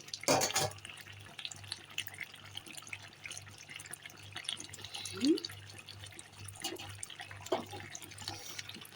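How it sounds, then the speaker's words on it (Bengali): Boiled water is poured into a pan of simmering chicken curry gravy, making soft, quiet splashing and trickling with a few scattered drips, close by and low in level. "এখন একটু জল দিয়ে দেবো জল আমি এই যে ফুটিয়ে নিয়েছি"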